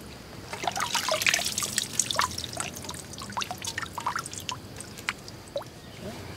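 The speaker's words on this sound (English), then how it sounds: "So I'm going to continue filling this up with my handkerchief over it." Water trickling through a handkerchief held over a container during wilderness survival water collection: an uneven run of close, bright drips and splashes with liquid burbling, loudest early and then thinning into scattered drops.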